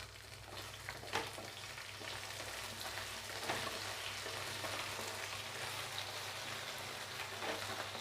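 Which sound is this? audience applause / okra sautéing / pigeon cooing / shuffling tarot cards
okra sautéing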